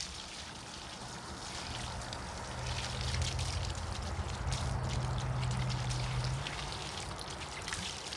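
A hose sprays water hard onto a sock being rinsed outdoors at an off-grid cabin's BBQ shack, a steady hissing patter that swells louder midway and then eases slightly.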